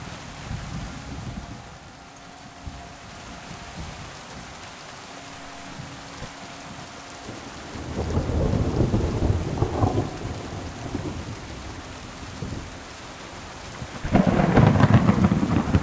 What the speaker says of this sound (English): rain's pretty loud.